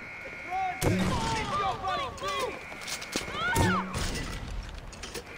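Gunfire bursts in the video game Far Cry 4, a few sharp shots cutting through a busy mix of game sounds and chatter, with voices talking over the action.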